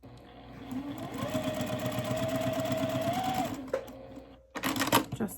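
A sewing machine stitches a quarter-inch seam in cotton quilt fabric at close range, whirring steadily for a few seconds, then stops briefly before a short burst of stitching resumes.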